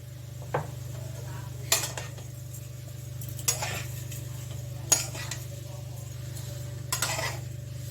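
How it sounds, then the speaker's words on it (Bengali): A spoon stirs sugar into sour amla pickle in a hot wok, striking the metal with a handful of sharp, spaced clinks over a faint, steady background hum. "কড়াইটা গরম ওর জন্য একটা শব্দ হচ্ছে"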